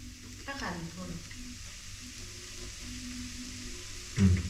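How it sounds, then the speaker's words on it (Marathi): Spice tempering for a bitter gourd dish sizzles in a pan as it is stirred, a close, steady fry with scraping stirs and a brief louder knock near the end; no talking. "आपली आता ही फोडणी चांगली परतून परतून घ्यायचं आहे"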